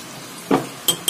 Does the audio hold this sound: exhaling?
no